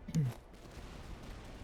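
Cannon fire in the battlefield video game Master of Command, Russian campaign: one short, low boom near the start, then quieter battle ambience for the rest of the moment.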